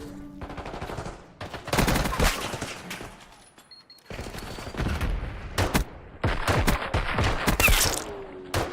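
Repeated bursts of gunfire during a competitive shooter game match, loud clusters of sharp shots separated by short lulls, with pistol fire among them and no talk.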